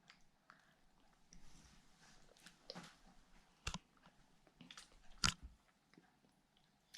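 Someone biting and chewing a slice of homemade cake, quiet close crunches and mouth sounds coming in sporadic bursts, with one sharper bite standing out, no talking.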